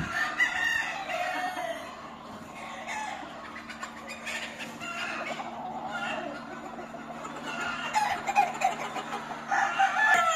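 Gamecock at a fighting-rooster breeding farm in Spain, crowing and clucking in repeated bursts among other fowl, fairly close, with faint background voices and steady low hum.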